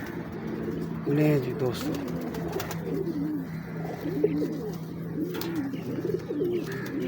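Breeder pigeons cooing in a loft, repeated soft throaty coos throughout at close range, with someone speaking over them.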